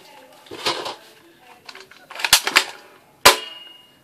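A toy cap gun, the AF-47, fires small yellow caps in sharp, close cracks: one pair of snaps near the middle and a single louder snap later, between handling clatter and rustling.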